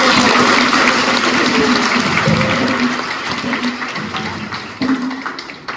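A congregation of children and adults at a parish mass claps loudly in a thick, sustained burst of applause that gradually thins and softens toward the end.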